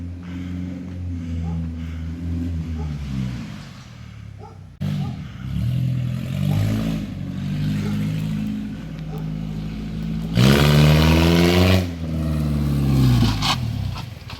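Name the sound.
Nissan 240SX drift car engine revving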